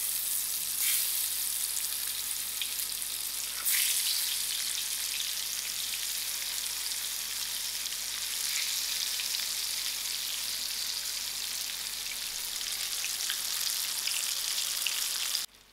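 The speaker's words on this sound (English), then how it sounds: "allowing it to fry for 3 minutes on either side" Brinjal (eggplant) slices frying in oil in a pan, a steady, dense sizzle that stays even and fairly loud throughout with no talking.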